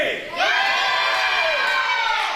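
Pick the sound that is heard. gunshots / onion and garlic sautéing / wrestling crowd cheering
wrestling crowd cheering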